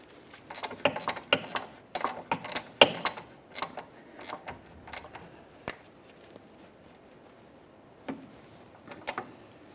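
Ratchet tightening the rear sway bar link nuts on a 2012-2018 Nissan Altima, heard as clusters of quick close clicks, busy at first and then a few sparse bursts near the end.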